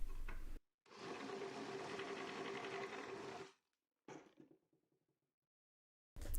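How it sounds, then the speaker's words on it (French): A drill bores out a hole in metal to 8 mm and then chamfers its edge, giving a steady buzzing whir for under three seconds, followed by a brief, fainter burst. "là je viens agrandir à 8 mm. Et enfin un petit coup avec un gros fourré pour chanfreiner le bord du trou."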